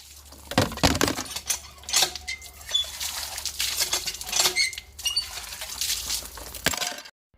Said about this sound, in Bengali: এই যে এক গামলা বাসনপত্র নিয়ে চলে আসলাম মাজতে এগুলো এখন বসে বসে মাজবো